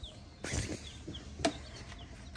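A few soft clucks and peeps from young chicks close by, including Buff Orpington and Gold Laced Wyandotte chicks, scattered over a quiet background.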